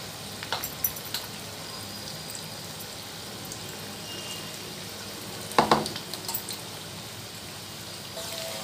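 Chicken 65 pieces frying in hot oil, a steady close sizzle running throughout, with a louder crackling burst midway as more pieces drop in and a few light clinks near the start.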